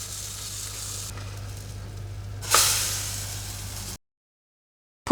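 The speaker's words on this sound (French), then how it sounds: "Je continue à cuire mes blinis sur feu moyen jusqu'à ce que je n'ai plus de pâte" Vegan, gluten-free blinis cooking in a pan over medium heat, a steady close sizzle that swells briefly louder partway through before cutting off abruptly.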